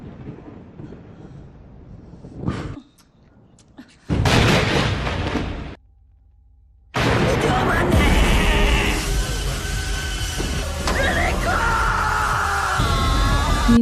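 Sri, a character in the Indonesian horror film Sewu Dino, screams in loud, harsh bursts separated by abrupt silences, later joined by dense dramatic film sound.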